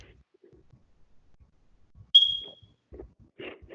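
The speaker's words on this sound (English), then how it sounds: "that's probably my fire alarm" A fire alarm gives a single sharp electronic beep at home, heard once mid-clip over faint room noise, with a little quiet talk and movement following.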